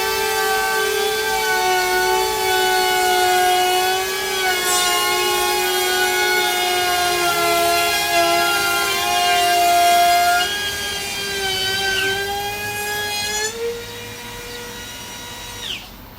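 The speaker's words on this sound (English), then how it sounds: "so we've basically now got a giant one-handed trim router. Let's see how she goes." Milwaukee M18 1/2 inch cordless router cutting wood, a loud close whine with strong steady tones that dips and shifts in pitch as the bit bites, then winds down near the end.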